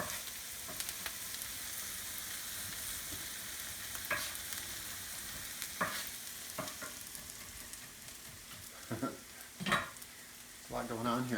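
Garlic and ginger frying in a pan for an Indian lentil dahl, a steady close sizzle with occasional stirring clatters and scrapes throughout.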